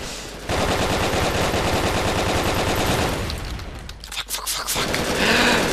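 Sustained rapid automatic gunfire from a weapon in the BrickForge video game, loud and continuous for several seconds, briefly thinning and breaking up before another dense burst of shots.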